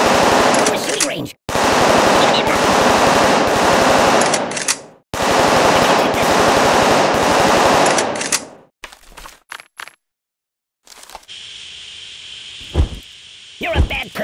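Bursts of rapid automatic gunfire at a shooting range in the game Kick The Buddy, three long loud volleys separated by brief pauses, followed by scattered quieter clicks and a hissing tail.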